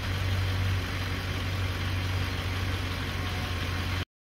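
A rebuilt Land Rover Discovery 2 V8 engine idles with a smooth, even low hum for about four seconds before cutting off abruptly, with no talk over it.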